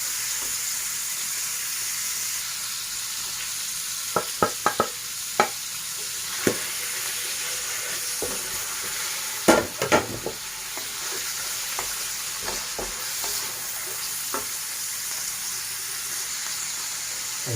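Hotdog slices sizzle steadily in a hot frying pan while a utensil stirs them, scraping and clicking in a scattering of sharp taps that peak around the middle; no talking.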